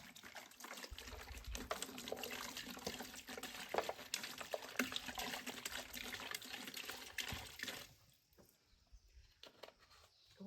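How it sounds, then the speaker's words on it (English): Water is poured steadily into a container for mixing cement, a soft continuous splashing trickle that stops near the end, quiet and close. "So right now we put here some water."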